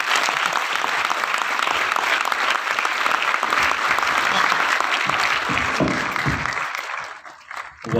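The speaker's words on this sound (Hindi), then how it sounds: "एमसी को जोर से तालियां बजाओ" An audience at a business success seminar in Delhi claps for the master of ceremonies, a dense, loud, continuous round of applause that holds steady, then thins and fades out near the end.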